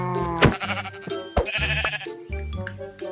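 Minecraft sheep bleating in the video game, several wavering harmonic bleats in a row with short pauses between them, loud and close with no talking.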